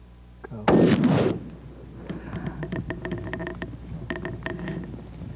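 A single rifle shot during a mountain ram hunt, a loud boom that rolls and echoes for about half a second, followed by quieter scattered clicks and rustling in the open outdoors.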